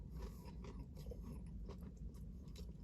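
Crunchy chewing of a poke bowl with crispy onion, fried tempura, rice and seaweed, close and steady through the whole stretch, with no talking.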